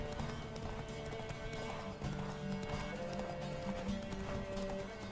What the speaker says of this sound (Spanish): Pues hay un caballo corriendo solo